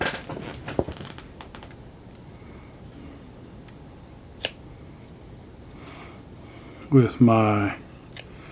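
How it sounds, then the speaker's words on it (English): Sharp clicks of small clippers snipping wires during a custom drone build, a few scattered snips near and fairly loud, with a brief voice at the start. "So we will cut these wires basically about where my tool"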